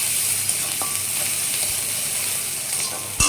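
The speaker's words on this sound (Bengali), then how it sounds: "আমি পেঁয়াজ কুচোগুলো দিয়ে দিলাম" Chopped onions frying in hot oil with garlic in a pan for a fish curry, a steady close sizzle with a few soft clicks and a sharper knock near the end.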